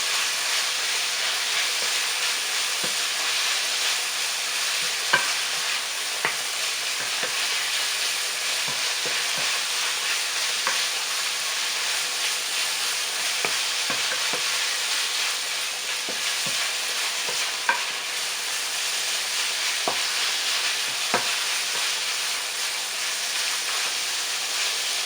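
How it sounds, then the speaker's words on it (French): Sliced chicken browns in a frying pan with a loud, steady sizzling hiss that runs on without pause, dotted with faint ticks and pops. "l'émincé commence à prendre un peu de couleur. On va le laisser dorer légèrement."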